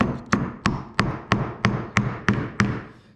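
A hammer gently taps a part of a riding lawn mower starter motor in eight evenly spaced, close, light metallic knocks, each fading quickly before the next.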